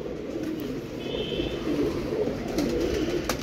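Female racing pigeons coo in a low, rolling murmur throughout, fairly close and even in level, with a few brief higher sounds over the cooing and no speech.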